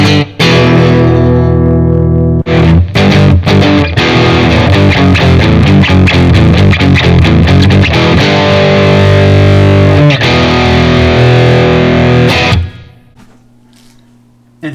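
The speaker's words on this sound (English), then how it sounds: "let's do the distortion." An electric guitar played through a distortion effect rings out loud with a saturated, sustained tone, stopping briefly between chords and riffs before fading into quiet at the end.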